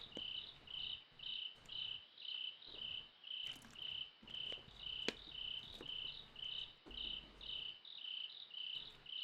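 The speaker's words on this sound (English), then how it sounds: "Oh, they got cricket noises?" Crickets chirp in the visual novel game Kagetsu Tohya: quiet, regular pulsed trills, roughly one burst per second, repeating evenly over a soft background.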